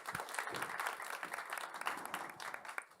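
An audience at a careers networking panel applauds a guest with a continuous patter of many hands clapping. The sound is fairly faint and steady, with no talking over it.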